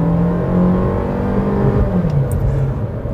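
A 2018 Opel Mokka X 1.4 Turbo all-wheel-drive engine revs up under acceleration, a loud close rising drone with a whooshing whir, pitch climbing then easing off.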